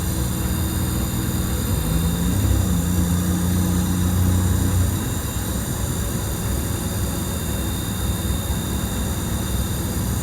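Eagle bus powered by a Detroit Diesel 6V92TA two-stroke engine on a test drive up a hill, a steady, loud low diesel drone with a droning engine tone through the first half, heard from inside the bus.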